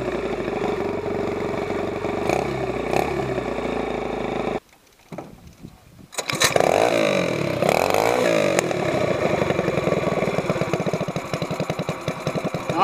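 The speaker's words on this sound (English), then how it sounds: "All right, now this is the first time we've had a load on the motor." A stage 2/3 mud motor on a boat with Mikuni carburetors, running under load on the water: a loud, steady buzzing engine drone that cuts out briefly and then returns, rougher and churning, continuing without talk.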